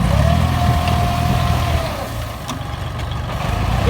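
An L4018 farm tractor of about 40 horsepower runs with a loud, steady, close-up diesel rumble that dips slightly midway and then holds.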